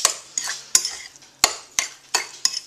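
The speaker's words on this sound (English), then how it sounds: "Stir that molasses and butter together." A spoon stirs molasses and butter together in a bowl for oatmeal cookies, making a run of sharp, irregular clinks and scrapes, about eight distinct hits, close and clear.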